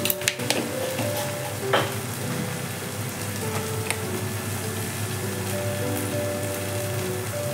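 Spicy pea filling for kochuri is stirred in a pan, with a close, steady frying hiss and scattered light scraping knocks.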